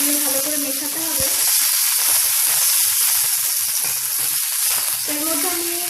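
Curry leaves crackle in hot tempering oil over slightly burnt whole spices for a Kerala-style rohu fish curry, giving a continuous close hiss with faint background tones.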